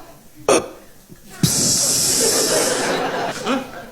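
A voice imitates a can being cracked open, bursting out in a sharp pop followed by a long loud breathy hiss, with another short burst of breath just before.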